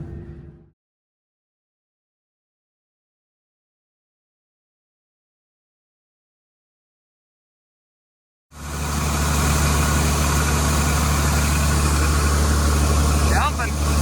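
Farm truck engine idling while a grain auger unloads: a brief sound at the start, several seconds of silence, then a steady, loud mechanical drone that runs to the end.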